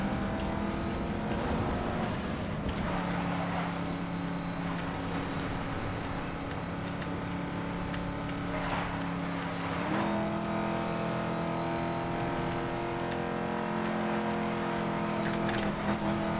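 A car engine drones steadily in the racing game Need for Speed: Most Wanted (2012), with a sustained rev that shifts pitch as gears change, continuous and fairly loud with no talk.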